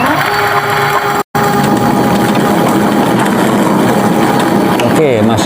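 An electric bicycle motor whirs steadily under throttle during a battery voltage test, loud and continuous, with a short gap near the middle and a voice talking over it.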